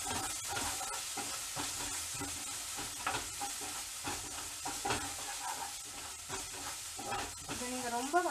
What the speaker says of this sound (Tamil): ஸோ நல்லா சாட்டே பண்ணிக்கோங்க